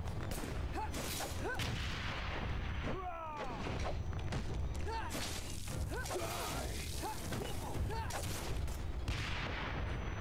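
Continuous gunfire and grenade blasts in the action game Wanted: Dead, a dense, unbroken barrage of shots and booming impacts mixed with sharp metallic effects that runs the whole time.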